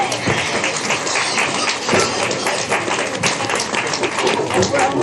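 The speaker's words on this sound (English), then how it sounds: "So let's give them all a round of applause." A crowd at a 4-H/FFA county swine show gives the hog exhibitors a round of applause, a dense, loud wash of clapping that fills the space, with some talk beneath it.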